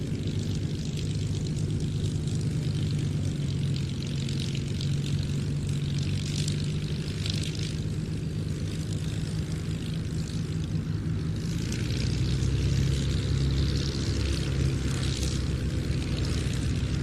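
A propeller aircraft flies past at the Duxford air show, its engine drone loud and sustained with a throbbing low tone that swells toward the end.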